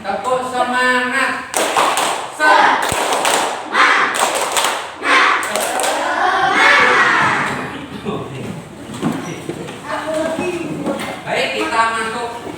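Schoolchildren in a classroom do the patterned 'tepuk semangat' spirit clap, with bursts of crisp group clapping in a set rhythm, broken by chanted voices and a teacher speaking between rounds.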